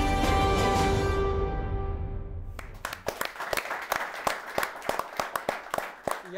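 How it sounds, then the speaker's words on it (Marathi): A crowd at a drought-relief volunteer labour event bursts into applause after a sustained musical chord fades, with dense hand clapping and sharp individual claps that keep going loud and close. "या श्रमदानामध्ये ज्यांनी घाम गाळला त्यांच्यासाठी खरं तर आपण या टाळ्या वाजवल्याच पाहिजेत."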